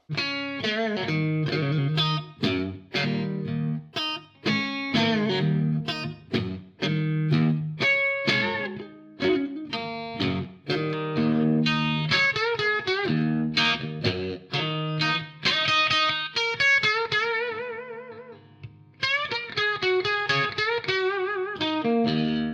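An electric guitar through a Marshall amp plays a lively riff of plucked notes and chords with a driven, slightly distorted tone, continuous and up close, no voices.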